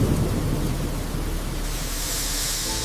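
Heavy rain pours steadily in a thunderstorm over a rooftop tent camp on a Cybertruck, a dense, loud, continuous roar with a deep rumbling low end and no talking.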